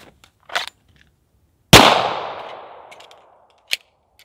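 Single loud close pistol shot from a Springfield 1911 Range Officer outdoors, a sharp crack with a long decaying echo, framed by faint clicks of handling and a short metallic tick afterward.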